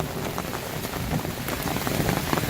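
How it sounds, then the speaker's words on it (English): Heavy thunderstorm rain pours steadily on the Appalachian Trail, a dense, continuous hiss of drops hitting surfaces close by, with no voices over it. "got a thunderstorm. Coming down pretty hard."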